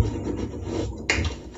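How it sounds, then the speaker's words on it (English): Door lock being opened, a brief sharp metallic click and clack of the latch heard over a rough, rumbling background noise, with no one speaking. "This was the sound of the door."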